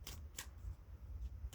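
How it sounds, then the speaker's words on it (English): A deck of tarot cards is shuffled close up and quietly, with soft papery riffling and a few sharp snapping clicks over low background rumble. "right now I'm shuffling the deck"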